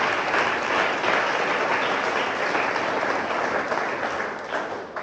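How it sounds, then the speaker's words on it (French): A church congregation at a family worship service applauds together, a dense, steady wash of many hands clapping close and loud for the whole stretch, tapering slightly at the end, with no speech over it. "Est-ce qu'on peut acclamer pour Dieu?"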